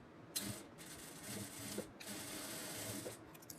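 A sewing machine stitches along the raw edges of pant fabric in a few short bursts, each a faint, rapid mechanical whir separated by brief pauses.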